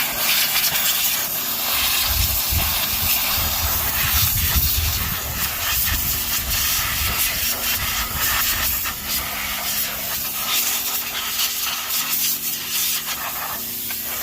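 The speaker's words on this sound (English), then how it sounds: "I'm going to steam in around these areas where I can't pour water" A steady, loud hiss of a steam cleaner spraying a car engine bay continuously, with a low rumbling undertone and occasional shifts in pressure.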